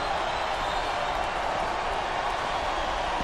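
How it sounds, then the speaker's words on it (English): A dense, constant roar of a large indoor wrestling arena crowd in the video game Smackdown vs Raw 2008, a steady wash of noise with no distinct voices standing out. "It sounds like this capacity crowd has something on their minds."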